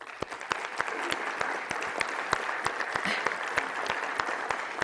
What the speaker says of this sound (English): let's give a round of applause to all the section leaders that are rolling off this year